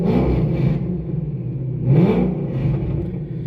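A Shelby GT500 fitted with an eBay WWP exhaust system revs twice in short bursts, giving a raspy, droning rumble that swells and fades and is heard from close by.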